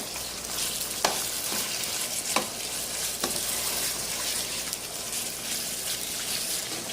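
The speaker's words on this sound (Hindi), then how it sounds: "अब ये थोड़ी देर 5 से 6 मिनट और मैं इसको भूनूंगी ताकि प्याज बिल्कुल इसके अंदर मिक्स हो जाए" Onions and chicken sizzle in a pan for chicken korma while being stirred, a steady close frying hiss broken by several sharp scraping clicks of the spoon against the pot, no talking.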